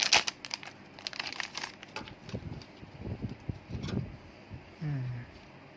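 Foil wrapping of a Pokémon VMAX Climax card pack crinkling and ripping open, a series of close, sharp crackles and tears, followed by quieter handling noises.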